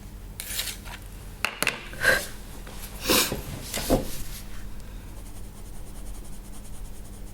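Sepia coloured pencil shading on a colouring book page, heard as soft scratchy rubbing strokes in short irregular bursts, close and fairly faint over a quiet background.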